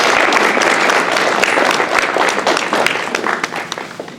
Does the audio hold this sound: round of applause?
yes